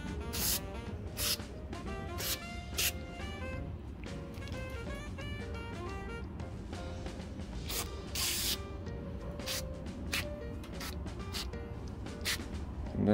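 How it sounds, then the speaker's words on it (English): Cleaning foam sprays in short, hissing bursts onto a vintage Stetson fur felt nutria hat with a Coca-Cola stain, the quiet spritzes repeating irregularly over faint background noise. "spray some foam on the affected area"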